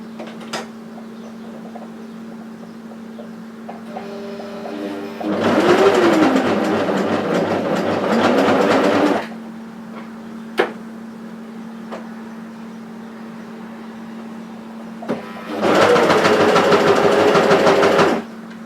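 A cover stitch sewing machine runs a raglan seam with a top collar butted against it, in two loud, steady motor bursts of about four and three seconds, separated by quiet pauses with faint handling.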